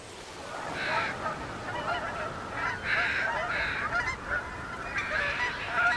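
A flock of geese and other water birds gathers on the Mississippi in fall, honking steadily and loudly in an overlapping chorus that never quite stops.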